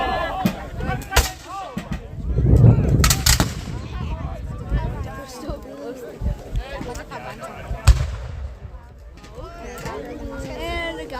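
Musket and artillery fire at a War of 1812 battle reenactment at the siege of Fort Erie, heard as sharp cracks and a deep booming blast amid outdoor crowd noise and people talking.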